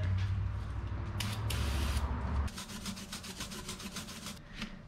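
A brush scrubs blue stains off a tire's whitewall, giving a steady close-up rasping rub that turns into a run of quicker rhythmic strokes partway through. No one speaks.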